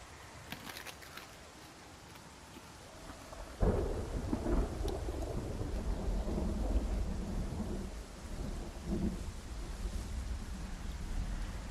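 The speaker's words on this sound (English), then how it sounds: "the storm is getting crazier." A thunderstorm with heavy rain in the video game Project Zomboid: steady rain hiss, then a sudden loud thunderclap that rolls into a long rumbling growl over the continuing downpour.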